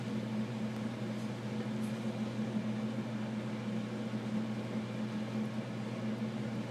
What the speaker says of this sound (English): I wonder if we can turn this vent off.